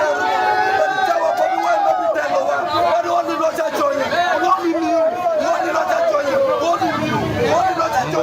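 Crowd outside the Voice of Lango radio station in Lira cheering during a live broadcast, a loud steady babble of many voices with shouts and chanting rising over it throughout.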